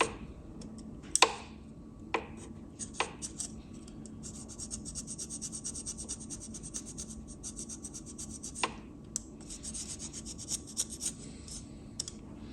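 Hand scraping of a Volvo D5 2.4 thermostat housing surface, a close, steady rasping scrub repeated in quick strokes for several seconds, broken by a few sharp taps and clicks, with no talking.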